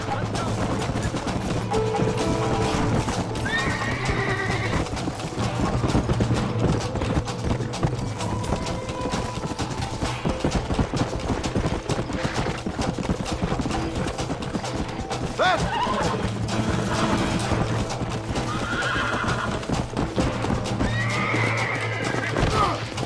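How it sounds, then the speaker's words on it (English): Horses in the Red Dead Redemption video game neigh and whinny repeatedly over clip-clopping hooves, with several loud whinnies standing out above a steady low hum. "we have to steal one of their horses"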